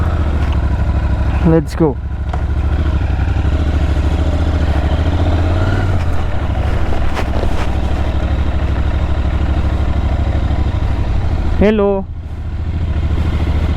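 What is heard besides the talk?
Royal Enfield Interceptor 650 motorcycle starting and riding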